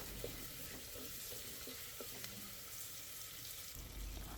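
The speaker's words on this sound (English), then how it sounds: "Saute the drumstick for some time so that the raw smell from the drumstick also is" Drumstick vegetable pieces sauté in a pan for sambar, a faint steady sizzle with occasional soft clicks of stirring.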